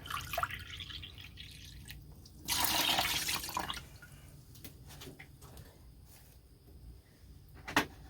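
A scoop of water is poured into a paint mix, a brief splashing pour in the middle of a quiet room, surrounded by faint drips and small knocks.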